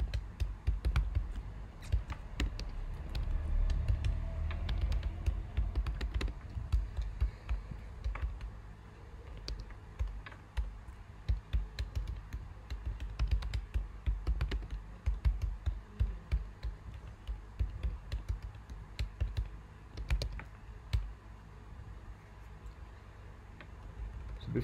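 Typing Java code on a computer keyboard, a steady stream of light key clicks with irregular rhythm and occasional heavier keystrokes, close and moderately quiet with no speech.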